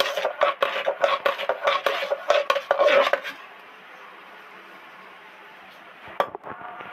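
Biuli dal paste being stirred and mashed in a bowl, a rapid run of clinking, scraping utensil strikes against the bowl for about three seconds, then quiet with a couple of isolated knocks near the end.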